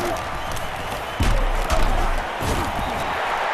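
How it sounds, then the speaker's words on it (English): Crowd roars in the stands of an NCAA 09 college football video game, Longhorns versus Terrapins, a steady loud wash of cheering that swells sharply partway through and stays raised. "And this crowd is going crazy."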